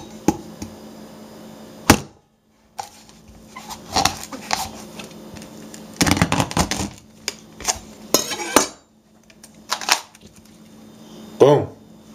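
A coconut is hacked open with a blade and cracked in half, giving sharp irregular knocks and hard cracking impacts with short pauses between them, close and fairly loud, over faint background noise.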